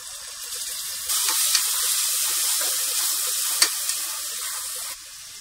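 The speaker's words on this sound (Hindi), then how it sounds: "यहाँ पर हमारा प्याज ब्राउन हो चुका है, इसमें लहसुन अदरक का पेस्ट डालेंगे।" Ginger-garlic paste lands among browned onions in a hot pan and bursts into a loud, steady sizzle that holds for several seconds and then drops off, with no speech.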